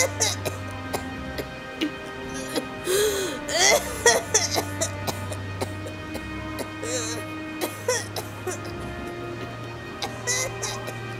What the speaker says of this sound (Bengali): সে ভীষণ খারাপভাবে কাশছিল, যেন সে তার অন্তিম শ্বাস নিচ্ছে।